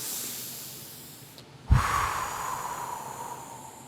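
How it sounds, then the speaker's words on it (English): A commencement crowd at Mount Tamalpais College draws in a long, hushed breath together, then releases it in one sudden, loud collective exhale that fades into a soft airy hiss. "take a deep breath with me and exhale"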